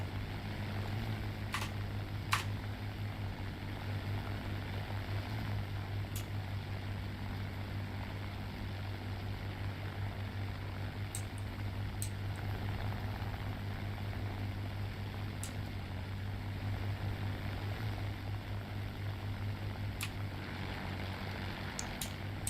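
Propeller aircraft engines drone steadily through a video game air battle, a constant low hum with faint sharp clicks and pops scattered above it and no voices.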